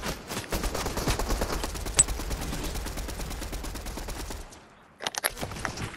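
Rapid automatic gunfire in Fortnite rattles in a dense, continuous burst for over four seconds, pauses, then returns in a few shorter volleys, with no talk over it.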